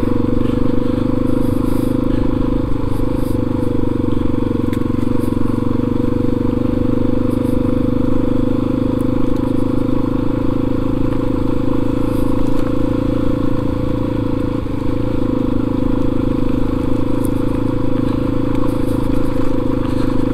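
A Yamaha XT250 motorcycle rides along a road, its single-cylinder engine droning steadily and loudly throughout with wind rush and road noise, close to the rider and holding a constant pace.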